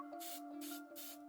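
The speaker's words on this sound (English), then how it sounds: "I take the spray can back from Xavier and shake it. I pressed." In a video game, a spray can hisses in two or three short, bright bursts over a steady tonal background hum.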